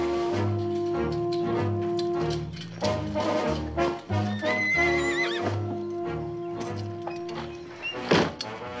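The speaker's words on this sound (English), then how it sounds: "a freshly saddled horse" A horse whinnies loudly over a background of music, with hoof clops and a sharp, rising neigh near the end.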